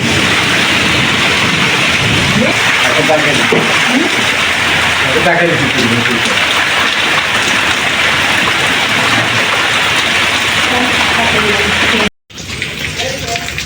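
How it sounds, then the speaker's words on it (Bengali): Heavy rain pours in Chittagong, a loud dense wash of water spattering on surfaces that runs steadily, with a brief dropout near the end before the downpour resumes. "আমাদের চট্টগ্রামে আজকে বৃষ্টি হইতেছে"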